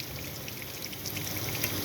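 Hot water runs steadily from a tap in a Swift Sprite Major 6TD caravan, a constant close splashing hiss under strong pressure with no speech.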